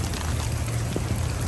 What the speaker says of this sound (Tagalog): Yung lakas ng ulan ngayon nga, pag tumawid ako dyan mababasa ako eh.